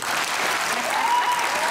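A studio audience on a comedy talk show claps in a brief, moderately loud burst of applause, steady and even for under two seconds.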